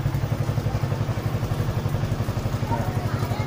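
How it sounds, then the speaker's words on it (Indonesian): A Yamaha R25 motorcycle with a modified, hollowed-out exhaust idles with a steady, low, rhythmic thrum and a slight clatter, close by, while someone talks over it. "Nah, nggak nyaring kan suaranya? Dengan knalpot yang sudah bobokan"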